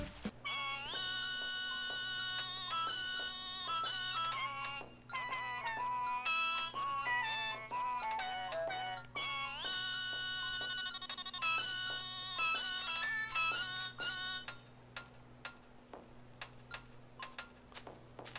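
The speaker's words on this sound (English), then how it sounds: "the turtles make noises if you go close to them." Cheerful electronic chiming melodies and bleeps from turtles in Animal Crossing: New Horizons, playing continuously over a steady low hum, ending in scattered short ticks.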